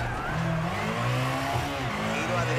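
A rally car in the EA Sports WRC video game loses grip under locked brakes and slides nose-first, its engine droning steadily with tire scrub throughout.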